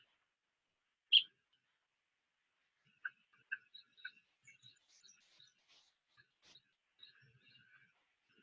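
Red-crowned woodpecker in Panama, one sharp call followed by a scattered run of faint, short chattering notes at a distance against a quiet background.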